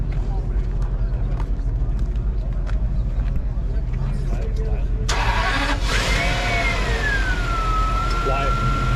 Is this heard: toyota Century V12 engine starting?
yes